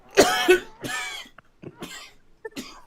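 Several harsh, close coughs come in quick bursts, with a little throat clearing between them.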